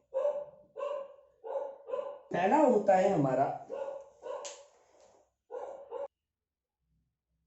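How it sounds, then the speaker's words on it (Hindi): Dogs bark in a run of short, evenly spaced yaps with a brief pause between them, while someone talks partway through. "कुत्ते भौंक रहे थे"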